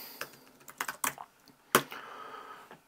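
Computer keyboard typing at a workbench while programming an ATF150x chip, a few sharp irregular keystrokes up close in a quiet room.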